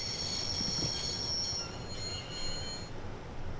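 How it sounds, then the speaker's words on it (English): A train in the Broken Sword video game grinds to a halt, its wheels squealing high and sustained over a rumbling rolling clatter that gradually settles. "I'd always wanted to stop a train, and now was my chance."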